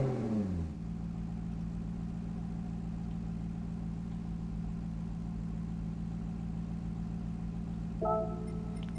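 A 2008 Alfa Romeo 8C Competizione engine in Gran Turismo 7 cranks and fires up with a quick rev, then settles into a steady, throaty idle, with a brief blip near the end.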